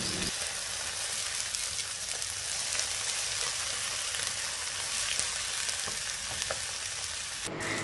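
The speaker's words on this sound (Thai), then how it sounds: "ใส่ไข่ลงไปค่ะ แล้วก็ผัดไปเรื่อยๆค่ะจนกว่าไข่จะสุกค่ะ" Egg stir-fried with Sesbania flowers sizzles steadily in a pan, a close, continuous bright crackle with faint scraping stirs, ending with a brief break near the close.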